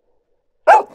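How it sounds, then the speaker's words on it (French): A guide dog for the blind, dressed in boots and a jacket, gives a single sharp bark close by, sudden and loud after silence, trailing into a brief softer tail. "Chut, c'est un chien guide aveugle."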